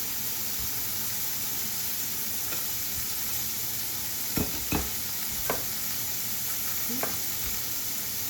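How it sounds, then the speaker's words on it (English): Hot mushroom soup is whisked together in a pan over a constant sizzling hiss, with several distinct scraping clinks of the whisk against the pan near the end. "I'm going to take the whisk and just whisk it together"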